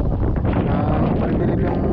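Strong wind buffets a small fishing boat out at sea, a loud, continuous broadband roar with gusty fluctuations and a tarp rustling, no speech over it.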